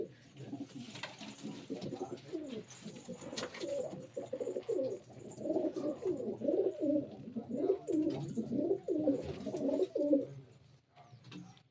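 A flock of pigeons at a feeding spot, where grain is scattered and a breeding pair has laid an egg, coos continuously in overlapping, rhythmic throaty calls, close and fairly loud throughout.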